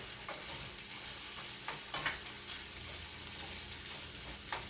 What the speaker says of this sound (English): So now I'm going to add my carrots and stir these in together.